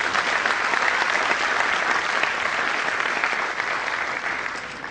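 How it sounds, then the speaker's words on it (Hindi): An audience at a young leaders' conference in Indore breaks into sustained applause, dense and loud hall-filling clapping that holds steady for several seconds before easing slightly. "तालियां बनती है यार।"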